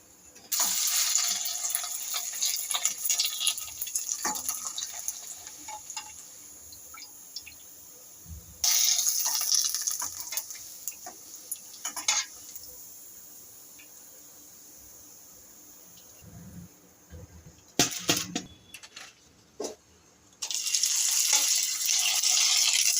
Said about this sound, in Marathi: आणखी चार पाच पापड तळून दाखवतो मी तुम्हाला